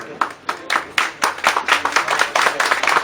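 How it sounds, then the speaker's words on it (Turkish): Hands clapping at an award ceremony held in a venue, a modest group giving distinct, uneven claps that build into a quicker patter, fairly close and moderately loud, with no voices over it. "Alkışlarımızı bulunuyoruz."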